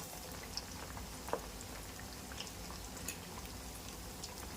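Chicken cutlets frying in hot oil in a pan on a gas stove, a faint steady sizzle and bubbling with scattered small pops and crackles.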